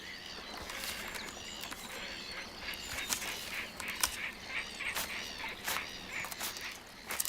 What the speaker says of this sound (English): The calls of black-headed gulls bring it to life